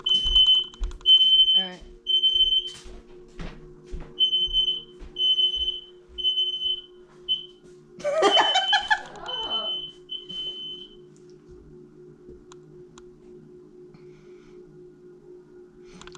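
A smoke alarm goes off indoors with repeated short high-pitched beeps in a steady rhythm, loud and close, and stops partway through while a person speaks and moves about nearby.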